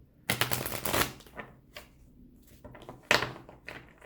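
A deck of tarot cards is shuffled by hand, with a few bursts of riffling and slapping card noise separated by short pauses, close and fairly clear, with no talking.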